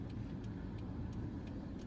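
Steady car engine and road rumble from inside a vehicle moving through Florida traffic, low and continuous with a few faint higher swishes, no voices.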